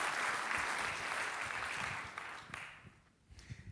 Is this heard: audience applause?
yes